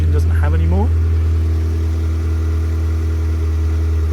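A Renault Twingo race car engine idles steadily just after starting, a loud low even hum with faint tonal overtones and a brief chirp near the start.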